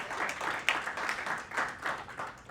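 Conference audience at an AI audio talk giving a short round of clapping, a moderate patter of hands in uneven waves over a couple of seconds.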